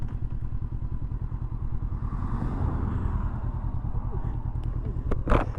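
Honda CB500X motorcycle ridden along country lanes, its engine a steady low throbbing drone with rumbling wind buffeting, close and constant, ending with a short sharp clatter.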